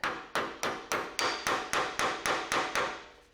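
A hammer strikes freeze plugs on a 1940 Chevy pickup engine in a steady run of about eleven sharp metallic blows, evenly spaced and close, each ringing briefly before the next.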